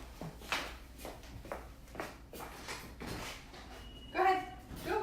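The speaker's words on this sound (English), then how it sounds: "My dog always barks when I do a video." A pet dog barks indoors in a few short, sharp bursts spread over several seconds, with shuffling footsteps and movement sounds between them and a louder whimpering yelp near the end.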